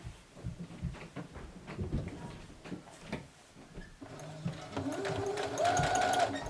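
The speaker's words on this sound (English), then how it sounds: "But now I gotta sew the pocket." A sewing machine stitching a garment pocket, with short uneven bursts of needle clatter that give way to a steadier, louder run of stitching near the end, close by with no speech.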